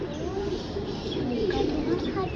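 A breeding pair of pigeons coos softly in a loft, a low, rolling, repeated cooing that stays faint and continuous throughout.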